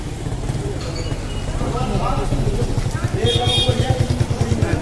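A motorbike comes up from behind on a dark street, its engine a low, steady putter that grows louder and more rhythmic toward the end beneath ambient street noise.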